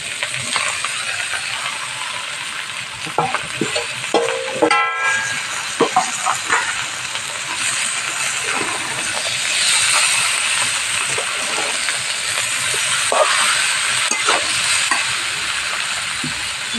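Pre-fried vegetables tossed into a pan of hot oil where fish has just been fried, for a Bengali feast-style dish; close, continuous sizzling with scraping stirs and clinks throughout, no voices.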